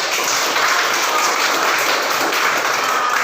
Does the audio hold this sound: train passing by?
no